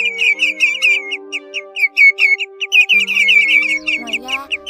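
Recorded calls of greenshank and grey-headed shorebirds ring out as rapid, loud, repeated whistled chirps in quick bursts over a sustained tonal backing.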